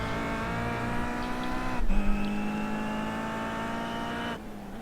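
A BTCC touring car in the iRacing video game accelerates out of a corner onto the straight at Okayama, its engine note climbing steadily, then a brief gear-change dip before it pulls again, loud and continuous without talk.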